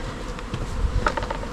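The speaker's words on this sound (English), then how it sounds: "there's all the bees going in, there's the pollen going in." Honeybees swarm and buzz around a hive housed in a bin during a removal, a steady close insect drone with brief louder swells as bees fly past.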